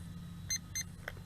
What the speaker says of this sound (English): double beep and it stopped recording